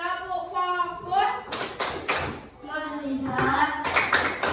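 Children in a primary school classroom perform a rhythmic focus clap, several sharp group claps in bursts mixed with children's chanting voices.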